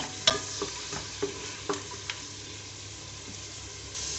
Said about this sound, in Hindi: अदरक लहसुन डाल के मैं 1 मिनट सौते करूँगी।